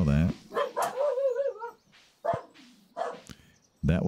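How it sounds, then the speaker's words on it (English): A dog in the Stardew Valley farming game gives a few short barks and yips, mixed with other soft game sounds and brief pauses. "That was the dog leaving."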